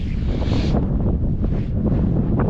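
Strong wind buffets the microphone with a loud, continuous low rumble and roar throughout.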